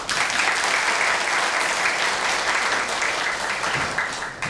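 Audience at a university business forum applauding, dense sustained clapping from many hands filling the room, loud and even, tapering slightly at the very end.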